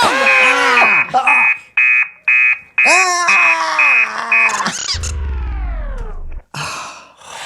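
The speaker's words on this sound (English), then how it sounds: "Would you like to hear my alarm? Yes, and make it loud." A robot alarm clock blares a loud electronic alarm in repeated harsh beeping bursts, then a falling, groaning synthetic tone and further shrill blasts, close and piercing with voices mixed in.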